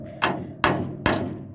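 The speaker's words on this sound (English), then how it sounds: "take a hammer," A hammer strikes the trunk latch of a 1961 Comet three times at an even pace, each blow a sharp close metallic clank with a short ringing decay.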